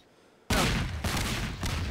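A bomb goes off in the video game Melon Bomber: after near silence, a sudden loud blast bursts in and holds as a dense, rumbling roar that pulses briefly before continuing.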